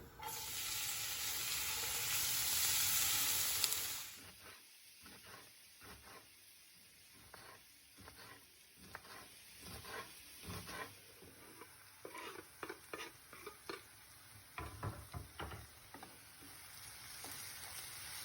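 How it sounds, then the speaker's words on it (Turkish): Chopped onions sauté in a pan with very little oil, a soft sizzle with a brief louder hiss at first, then quieter frying broken by repeated scraping stirs, close and with no talking. "Tavaya çok az yağ aldım. İlk önce soğanları kavuracağım."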